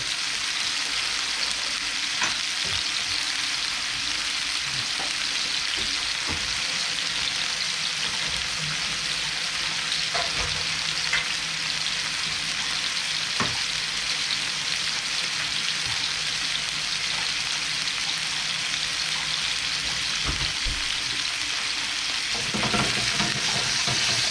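A duck breast fries in a pan as its fat renders, giving a steady, dense sizzle and crackle throughout, with occasional louder pops and spatters and no talk.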